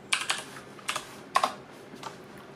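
A folder name being typed on a computer keyboard: a handful of crisp, close keystrokes in uneven bursts, heard alone with no talking.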